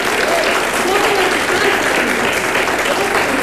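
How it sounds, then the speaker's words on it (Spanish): Studio audience applause on a Peruvian TV show, a dense, steady wash of clapping that holds evenly for a few seconds, with some speech blended in. "Un aplauso para Elizabeth"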